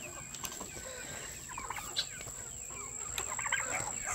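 Meat chickens on a free-range homestead clucking and chattering in short, scattered bursts, fairly close, with occasional wing flaps over a constant high background whine.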